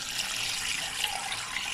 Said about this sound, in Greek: Τώρα προσθέτω το νερό